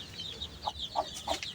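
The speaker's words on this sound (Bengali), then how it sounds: "রাজা বাদশা দুইটা মোরগ আমার।" Farmyard hens and roosters on a poultry farm giving a few short, separate clucks at moderate distance over a faint background hiss, with no voices.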